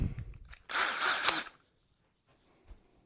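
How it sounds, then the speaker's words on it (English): A power drill whirs in one short, loud burst of under a second, drilling a small hole, preceded by faint clicks and followed by near silence. "I like to drill smaller holes."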